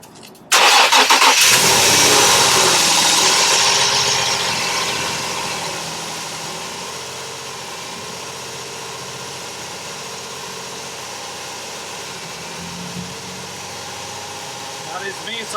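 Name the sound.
car engine starting and idling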